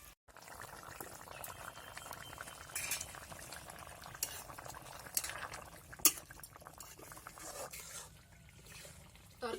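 Fish curry with eggplant bubbling quietly in a pot on the stove, a soft, steady simmer with occasional faint clinks of a utensil, low and close, no voices.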